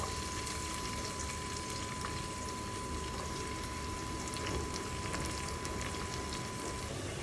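Garlic and onion fry in oil in a pan for chop suey, a quiet, steady, even sizzle with faint crackling running the whole time under a thin constant hum.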